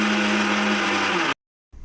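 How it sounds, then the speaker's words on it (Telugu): A mixie grinds coconut pieces into powder with a loud, steady motor whine, cuts off abruptly into silence, then restarts briefly at a lower level. "ఒకసారి దీన్ని మిక్సీ పట్టేస్తాను"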